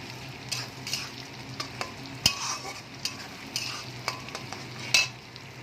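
Chopped tomato sizzles steadily in a pan for a katla fish gravy, with repeated scraping and clinking of a stirring spoon against the pan at close range.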